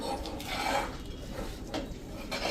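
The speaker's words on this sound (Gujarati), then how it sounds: "આ રીતે એકદમ સરસ આપણે તલ મિક્સ કરી લેવાના છે ગોળમાં" Sesame seeds being stirred into melted jaggery in a pan for chikki: soft scraping and rubbing strokes of a spoon against the pan, repeated at an uneven pace, quiet and close.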